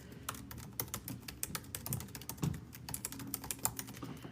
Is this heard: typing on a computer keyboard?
yes